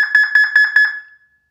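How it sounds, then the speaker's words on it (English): An S1 Stealth black alarm siren answers an arming signal with a quick run of about six sharp, loud electronic beeps that trail off into silence. "It should beep in response."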